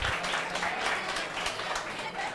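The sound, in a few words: audience applause for the guests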